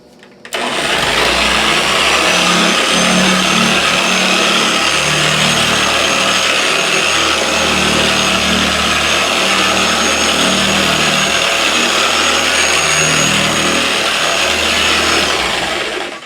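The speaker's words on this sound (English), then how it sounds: "I'm going to set it on speed 2 and work it into the panel." A Griot's BOSS polisher set to speed 2 runs on a car panel, a loud steady motor drone starting abruptly and holding evenly for the whole stretch, close by and without talk.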